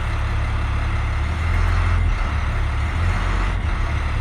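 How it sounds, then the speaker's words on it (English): A bus engine, put in drive against the parking brake during a Class B CDL inspection, runs as a steady loud low rumble that rises slightly in the middle as it is revved, with no talk. "put the vehicle in drive and gas twice against the parking brake to make sure that it holds"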